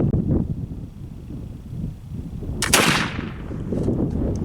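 A homemade black powder rifle fires a single loud, sharp shot at a target outdoors, its boom trailing off in a long decay over steady wind noise buffeting the microphone.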